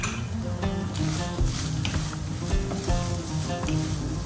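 Chicken seasoned with salt and black pepper sizzles steadily in a pan, with intermittent scraping and stirring clicks over the continuous crackle.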